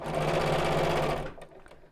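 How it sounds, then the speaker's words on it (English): Sewing machine stitching a fabric biscornu pouch, a steady rapid mechanical whirr running loud and close for over a second before stopping, followed by a few light clicks. "let's sew into the next point"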